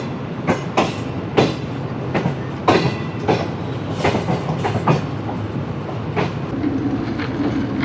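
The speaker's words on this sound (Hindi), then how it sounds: "ट्रेन दौड़ लगा रही है हमारे खाने वाले मुल्तान के दरमियान।" Shalimar Express passenger train running on the rails between Khanewal and Multan, with loud steady rolling noise and repeated clickety-clack wheel beats over rail joints, heard close from onboard with no talk.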